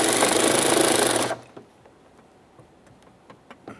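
A rapid, buzzing ratchet-like run of clicks sounds for just over a second while a door handle mounting bolt on a 2015-2019 Subaru Outback is snugged up, followed by a few faint scattered clicks and taps.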